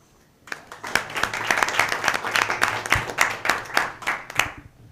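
Applause at a school district board meeting from a smallish group. Individual hand claps are distinct in a lively, uneven rhythm, swelling quickly after a quiet start and carrying on steadily, with no speech over it.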